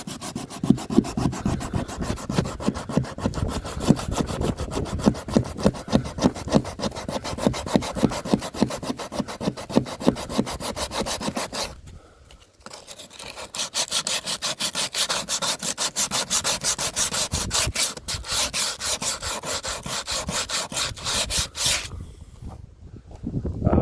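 A wooden boat under construction is sanded by hand, with close, rhythmic back-and-forth scraping strokes that later merge into continuous rasping, broken by two short pauses.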